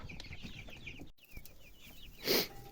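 Young chicks cluck in a steady, busy stream of short calls, close by, with a brief louder squawk near the end.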